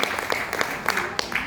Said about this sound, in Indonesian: Tepuk tangan untuk Dr. Feni, luar biasa.